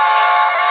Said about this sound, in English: That must be it, if it's a loud, annoying diesel.